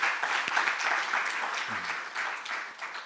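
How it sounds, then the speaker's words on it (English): Steady audience applause at a university Black History Month event, dense clapping filling the room for the full stretch with no talk over it. "Let's give the Conrad team a round of applause"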